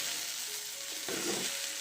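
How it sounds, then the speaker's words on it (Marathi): Okra sizzles as it dry-roasts in a pan without oil, a steady close hiss with a brief swell of crackling partway through. "इथे आपली भेंडी पण भाजून होत आहे"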